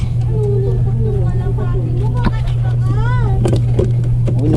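A small motorboat (bangka) passes close by on the water, its engine a steady low drone that runs the whole time beneath people talking, with a few brief chirps and clicks.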